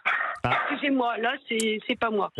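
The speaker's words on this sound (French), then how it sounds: "C'est le chien qui ne veut pas prendre l'avion." A dog yips and barks in short, close bursts, partly mixed with and overlapping a person's speech, the barks coming in quick clusters across the moment.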